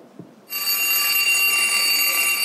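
A school bell starts suddenly and rings loud and steady, a continuous bright metallic clanging that carries on to the end with no break.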